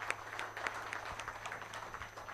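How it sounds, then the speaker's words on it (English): An audience at a diabetes research conference session in Bangalore claps for the participants, a faint, distant, steady patter of many hands lasting a couple of seconds. "A good round of applause for all the participants."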